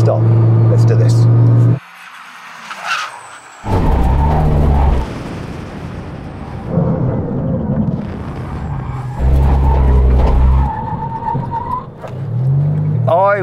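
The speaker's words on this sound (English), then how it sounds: "Now we're going to have a brake test from 100 miles an hour." A Bugatti Chiron Super Sport and a Lamborghini Huracan make a full emergency stop from 100 mph. Loud engine roar and braking noise surge and drop in bursts, with people talking over them.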